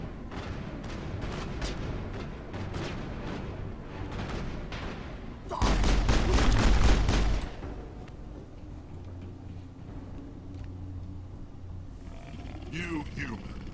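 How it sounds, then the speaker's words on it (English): Mass Effect gunfire cuts through a few seconds of loud, dense rapid bursts, then recedes beneath ongoing game noise and talk before and after. "Who is shooting at me? You're shooting at me."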